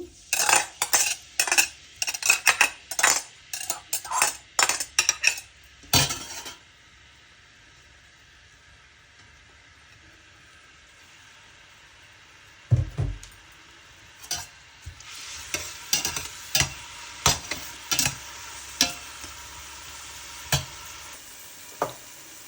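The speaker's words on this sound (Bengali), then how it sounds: "আমি এখন পেঁয়াজটা দিয়ে দিচ্ছি।" Sliced onions go into a pot of hot oil for biryani, and a utensil scrapes and stirs in quick rhythmic strokes over a soft sizzle, pausing for several seconds before another run of stirring.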